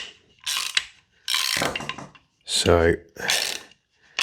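A ratchet wrench clicks in several short, close bursts while an Airtac HYP-9 MWS HPA receiver is taken apart, with a brief spoken word at the start.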